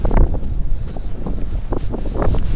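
Wind blows by a small snowy mountain river during fly fishing, a loud low rumbling buffeting that gusts unevenly throughout.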